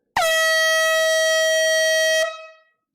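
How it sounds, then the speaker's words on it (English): An air horn gives one loud sustained blast of about two seconds, bright and brassy, then cuts off and its echo fades quickly, with no talking over it. "Let's blow the air horn."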